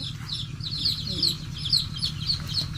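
Farm chickens cluck and chirp in a repeated, fairly close series. A low steady hum runs underneath the whole time.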